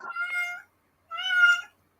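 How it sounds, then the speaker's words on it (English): A cat meows twice, two clear drawn-out calls separated by a short pause, close and alone without talk. "I love how your cat decides to now join in."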